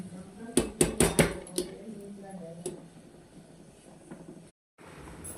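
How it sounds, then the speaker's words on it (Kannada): Moringa greens and lentils with salt added, stirred in a cooking pot: a quick burst of sharp metallic clinks and scrapes of a utensil on the pot, then quieter, sparser taps fading out, with no voice. "ಉಪ್ಪು ಹಾಕಿ ಒಂದ್ಸಲ ಮಿಕ್ಸ್ ಮಾಡ್ಕೊಳ್ಳೋಣ"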